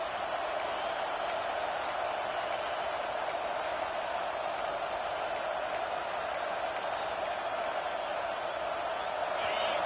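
Steady, distant roar of a home crowd in the NCAA 26 college football video game, Auburn versus Tennessee, swelling on a third down; a continuous wash of stadium noise with faint whoops and a voice talking over it.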